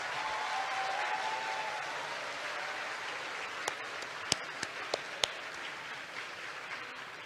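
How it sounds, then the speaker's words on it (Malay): Sustained applause from a crowd of students at a law faculty golden jubilee alumni ceremony, a steady broad wash of clapping at moderate distance with a few sharper individual claps standing out near the end. "Saya ingin mengajak semua pelajar-pelajar untuk memberikan tepukan yang gemuruh buat Yang Amat Berhormat Perdana Menteri dan semua alumni kita"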